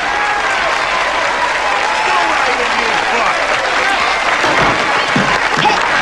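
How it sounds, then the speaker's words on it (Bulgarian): Applause for a retired congressman, a loud continuous crowd clapping that holds steady throughout, with voices calling out over it. "Аплодисменти за пенсионирания конгресмен."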